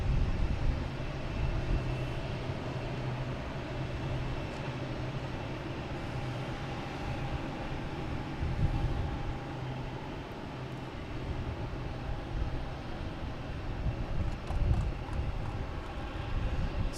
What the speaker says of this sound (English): Next taking off is Delta, an A330-300 heading to Amsterdam